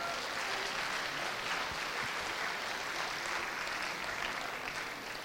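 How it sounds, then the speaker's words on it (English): A university audience at a Starbucks live case competition final claps in a steady, continuous round of applause. It is moderately loud and unbroken from start to finish. "Let's give them a big round of applause."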